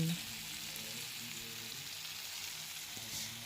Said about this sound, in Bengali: কড়াতে যাতে ধরে না যায় সেজন্য অনবরত নেড়ে নিচ্ছিলাম